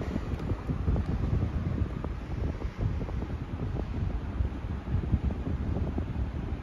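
Steady airy rushing of a Lasko 12-inch table fan running on high speed, a constant broadband whoosh close to the microphone with slight buffeting and no talking.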